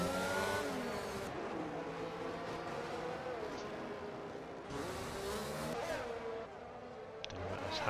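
Aston Martin Formula 1 car engines in the F1 2022 racing game at Baku, high-pitched whining revs rising and dropping as cars pass, steady and fairly loud, with commentators talking over them.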